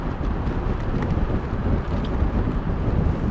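Steady, loud wind buffeting a microphone while freewheeling a bicycle down a steep, slippery hill near Todmorden, a continuous low roar with no pedalling, no voices and no breaks.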